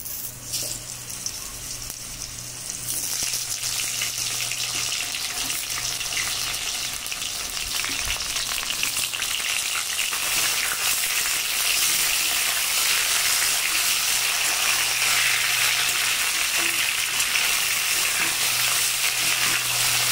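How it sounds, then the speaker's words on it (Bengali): Raw mango pieces sizzle and fry in hot oil with whole mustard and cumin seeds, a steady loud crackling hiss that swells after a few seconds and continues unbroken. "আমগুলো খুব ভালো করে একটু ভেজে নেব"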